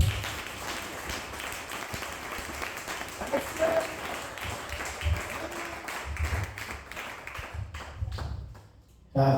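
A church congregation applauding, with dense rhythmic clapping and crowd voices mixed in, filling the room before it stops abruptly near the end.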